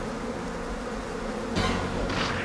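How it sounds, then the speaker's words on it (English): In the horror video game Sucker For Love, flies buzz in a continuous droning hum, with a couple of louder swells near the end and no speech. "I think the sound of the flies is the indicator of how close he is."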